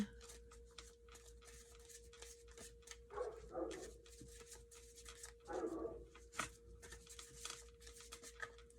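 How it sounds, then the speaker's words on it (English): A dog barks upstairs, muffled and distant, in two short bursts of yaps over a faint steady hum, with scattered light taps and rustles around them. "Dog's going ham upstairs."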